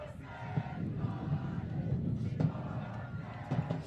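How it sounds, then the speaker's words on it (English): A school cheer squad chants and cheers from the stands at a high school boys' first-team rugby match, a distant crowd roar with rhythmic shouted bursts under commentator talk. "seems like Westering has woken up their cheer squad"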